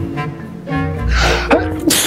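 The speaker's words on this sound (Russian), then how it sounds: "Бабушка все время громко чихает." A loud sneeze bursts out, preceded by a sharp inhaled breath and followed by a second quick exhale, close to the listener, with a low background hum and a faint voice beforehand.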